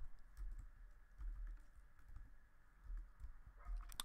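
Someone types on a computer keyboard while setting up code, producing faint, irregular clicks and soft key taps over a quiet background, with no talking.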